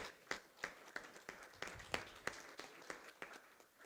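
Scattered applause for mayors at a capital cities summit, with about a dozen distinct, evenly spaced claps in a steady rhythm, quiet and somewhat distant in a hall.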